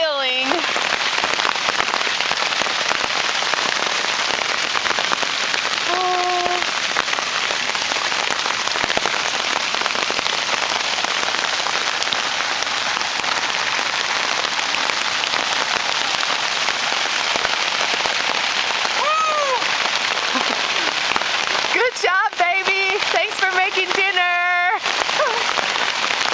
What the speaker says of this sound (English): it's freaking sleeting